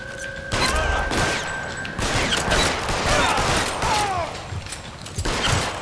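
Pistol and rifle shots crack out in several sharp bursts amid clattering and mechanical noise during an L.A. Noire shootout, with scattered impacts between them.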